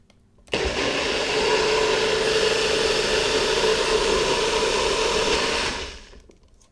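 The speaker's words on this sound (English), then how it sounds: "I'm going to be blending this for about 30 or 40 seconds because this is a relatively powerful blender" A powerful blender whirs loudly and steadily as it blends soft ingredients. The motor starts abruptly, holds a constant buzzing roar for about five seconds, then winds down and stops.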